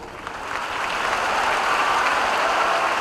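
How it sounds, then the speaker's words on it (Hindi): Sustained audience applause at a Teachers' Day ceremony honouring school headmasters, a dense steady wash of many hands clapping that swells at the start and holds loud throughout, with no talk over it. "कृपया जोर से ताली बजाएं"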